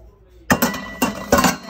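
Steel pots and pans clank and clink in several sharp, ringing hits a few beats apart in a hotel kitchen, close up after a quiet start.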